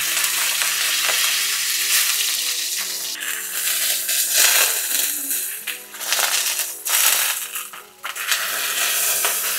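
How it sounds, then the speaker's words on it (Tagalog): Beef shank sears loudly in a hot wok, a dense crackling sizzle with repeated stirring scrapes and clinks of the utensil, close and continuous with brief dips as the meat is moved. "Pinapainit ko lang tong wok, tapos isisir ko lang tong beef."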